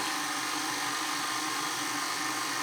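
Electric mixer running on very low speed, mixing Christmas cookie dough: a steady, continuous motor whir with no breaks, fairly close and even in loudness, with no speech.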